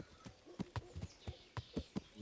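Horse hooves clip-clop in a steady walking rhythm in Kingdom Come: Deliverance, about a dozen soft, evenly spaced thuds heard faintly with no other sound.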